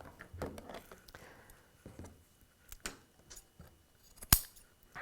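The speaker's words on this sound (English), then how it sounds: "So I want to cut this piece open." Scissors snip through a baby shirt in a series of short, close, irregular cuts, with one sharp loud snap near the end; the sounds stand alone with no talking.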